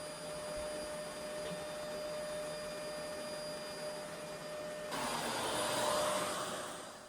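A vacuum cleaner runs at a steady, fairly quiet hum with a high whine while a kids' room is cleaned, then the pitch shifts and the roar grows brighter and louder near the end.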